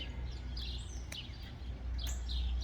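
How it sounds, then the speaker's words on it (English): A bird calls outdoors on a homestead in spring, repeating short, bright chirping phrases at a moderate distance over a steady low rumble, with a few sharp clicks mixed in. "I hear you, bird."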